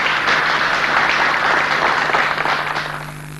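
Live studio audience applauds a ghazal singer on a television program, a dense burst of clapping that holds steady and then tapers off toward the end.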